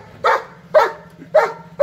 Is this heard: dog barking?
yes